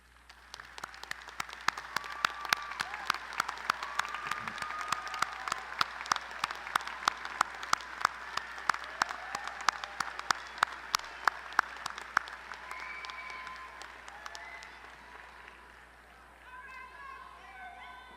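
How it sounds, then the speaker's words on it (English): Sustained audience applause for parents at a December 2017 university commencement in a large hall, many hands clapping steadily for about fifteen seconds before thinning out, with faint voices underneath. "Will the parents of our candidates please stand and receive our applause?"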